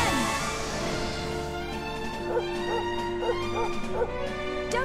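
A puppy in the video game Dragon Quest XI S yips and whimpers in short repeated cries over a sustained musical score, fairly close and mid-loud.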